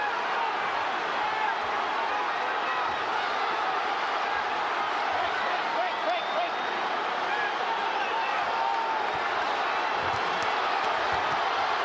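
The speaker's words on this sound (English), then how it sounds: "And the crowd stands and applauds." Boxing arena crowd after the Oscar De La Hoya vs Shane Mosley fight, on their feet applauding: a dense, steady wash of clapping and cheering that holds evenly throughout.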